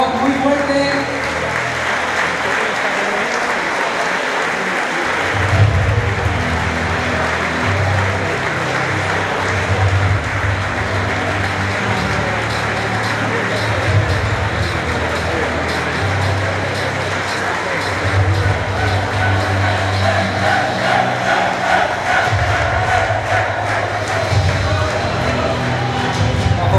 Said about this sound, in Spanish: este aplauso es para todos nuestros ganadores en estas categorías